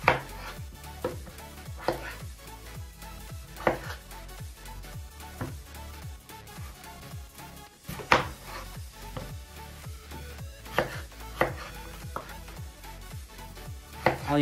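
Potatoes being cut with a knife for a Kazakh meat-and-potato stew: a steady series of firm, evenly spaced chops on a board, with faint sizzling and kitchen clatter underneath and no talking.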